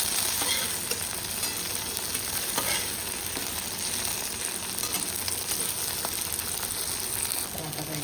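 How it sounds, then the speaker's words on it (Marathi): Green chillies fry in hot oil with a steady crackling sizzle and occasional stirring clicks, close and moderately loud, with no speech. "चार मिरच्या पण थोडंसं फ्राय करून घेणार आहे"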